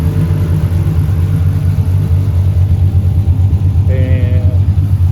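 2006 Dodge car idling outside with a new 3-inch exhaust and no tailpipes yet fitted: a steady, deep, throbbing rumble heard close up, with a brief higher tone near the end.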